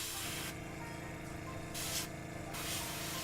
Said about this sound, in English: So I'm going to just spray right in there